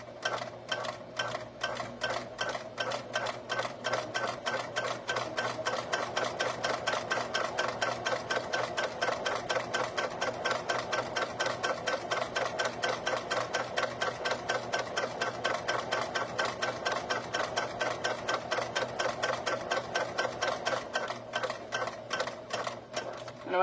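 A sewing machine stitches keychain webbing in a steady, fast, continuous run of needle clatter that stays close and even throughout.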